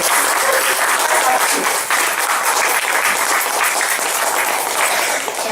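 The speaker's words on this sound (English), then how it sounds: "Please pause and give a wonderful round of applause." A crowd applauds loudly and continuously, a dense wash of clapping that holds steady from start to finish.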